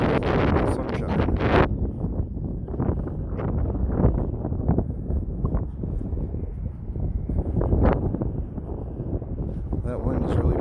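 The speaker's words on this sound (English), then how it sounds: "That wind is really picking up though." Strong wind buffets the microphone on a riverside walk in Corning, New York, a loud, constant gusting roar with rustling throughout and a brief sharp burst near the start.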